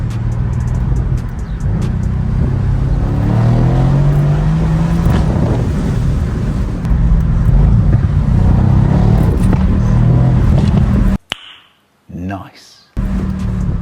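A Mercedes C63 S engine revs loudly and close, its pitch rising and falling in waves under someone talking, then it drops out abruptly near the end with a few brief bursts.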